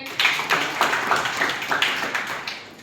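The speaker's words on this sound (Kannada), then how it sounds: "ಚಪ್ಪಾಳೆ ತಟ್ರಿ" Hands clap in a quick, regular rhythm, about nine crisp claps in a row, moderately loud with no talking, in a college classroom.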